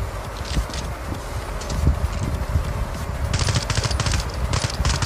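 Gunfire from a weapon in the Standoff 2 mobile game, sustained automatic shots in a rapid steady rhythm, moderately loud, with sharp crackling bursts toward the end.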